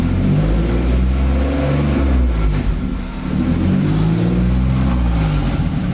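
A 3.8 turbo car engine with an exhaust leak revs loudly and steadily up close in first gear, a continuous rough drone with a brief dip mid-way, no talking.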